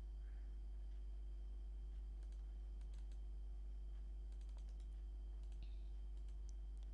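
Typing on a computer keyboard while entering medical records in clinic software, irregular bursts of light, close key clicks over a low steady electrical hum.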